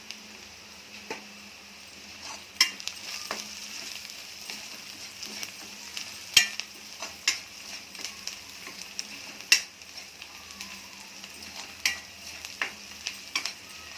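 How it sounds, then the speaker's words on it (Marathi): Chopped onion sautéing in a pan with salt added, stirred until reddish for a ridged gourd curry: soft steady sizzle with sporadic spatula scrapes and taps, fairly quiet and close, no voices. "आणि थोडंसं लालसर होईपर्यंत परतून काढायचं"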